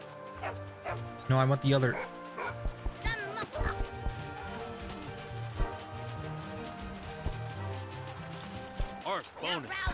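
Dog barks from the video game John Madden's Jerry Rice's Dog Football, short yips popping up over game music and sound effects while a person talks throughout.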